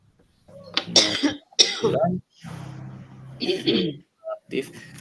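Someone coughs and clears their throat several times, close by, with brief bits of voice between the coughs.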